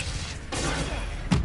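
A Stupefy spell cast in the video game Hogwarts Legacy, a short whooshing burst followed by a low impact thump near the end, with no talking.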